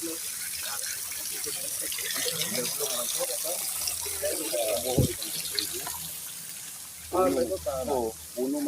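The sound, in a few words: water gushing into a water tank from the mountain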